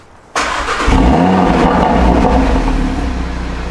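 An Audi RS3 engine with a Stage 1 tune cranks and catches abruptly, then settles into a steady, loud idle with a brief rev, close by.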